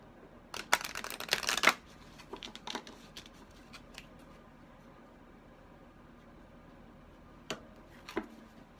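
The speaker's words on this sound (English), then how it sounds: "It is not easy to shuffle with your eyes closed." Tarot cards shuffled with eyes closed make a quick flurry of soft riffling snaps near the start, then a quiet stretch and two more brief card flicks near the end, close and faint.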